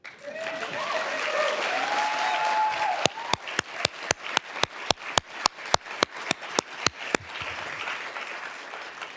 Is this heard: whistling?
no